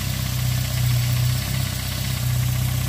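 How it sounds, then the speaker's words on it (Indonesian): A car engine idles steadily after a battery jump-start, a loud continuous low rumble with a slightly uneven pulsing hum and no talk over it. "kemudian mobil ini hidup ya teman-teman"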